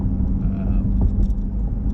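A C8 Corvette accelerates smoothly on a test drive, giving a steady low engine rumble and road noise close in the cabin, with no talk over it.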